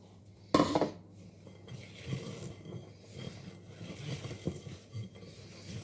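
Chopped walnuts are stirred into a loose chocolate brownie mixture, opening with a clear spoon-on-bowl clink, then soft, faint scraping and stirring that continues quietly to the end.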